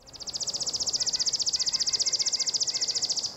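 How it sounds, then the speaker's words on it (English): A chipping sparrow sings a dry, insect-like trill: a rapid, even run of identical chips lasting about three seconds, clear and fairly close with no other sounds. "chipping sparrow."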